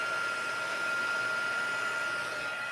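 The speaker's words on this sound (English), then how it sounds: "I'll let my heat tool heat up." Embossing heat tool blowing hot air, a steady, even whir with a constant tonal hum, moderately loud and uninterrupted throughout.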